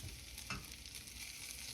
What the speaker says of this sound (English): And you hear that bacon sizzle.